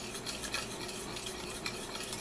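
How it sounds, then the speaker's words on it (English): Quiet, steady sizzling of butter in a pan over medium heat, a soft crackle with faint scraping, no talking. "my butter is starting to sizzle right in here"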